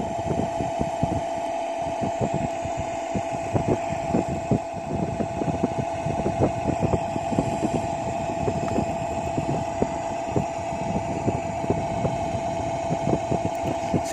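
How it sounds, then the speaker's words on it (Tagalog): A ship's diesel generator number 1 runs in an engine room, a steady loud drone with a strong constant hum and dense rhythmic knocking that holds throughout with no pause. "bago natin start ang diesel generator number 1"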